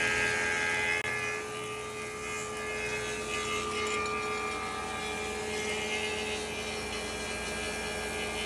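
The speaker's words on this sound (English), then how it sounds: "I'm going to run these through the planer" Thickness planer running salvaged old growth cypress boards, a loud steady mechanical whine with a constant motor hum and high buzzing cutterhead tone throughout.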